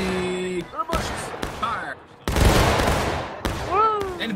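Musket volley fire in the Civil War video game War of Rights, several sharp gunshot cracks and a heavy ragged burst of fire, loud and close, mixed with shouted voices.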